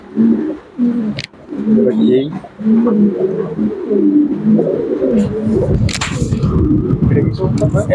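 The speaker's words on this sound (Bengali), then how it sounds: "সবগুলো কবুতর আসলে দেখানো সম্ভব না, যতটুকু সম্ভব দেখা যাচ্ছে" Pigeons at a seller's loft give low, rolling coos in steady repeated phrases up close, with scattered knocks and rustling near the end.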